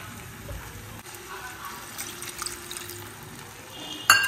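Water runs from a tap or is poured into a pot of rice in a home kitchen, a steady moderate splashing hiss ending in a sharp clatter.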